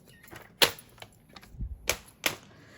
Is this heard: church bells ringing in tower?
no